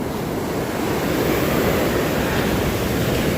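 Sea waves surge and wash continuously near a beach, a steady loud roar of surf with wind noise across the whole stretch and no voices.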